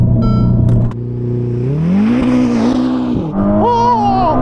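A Tesla making a hard launch start: a loud, close engine-like whine rises steadily in pitch as the car accelerates, then drops off before another rising tone.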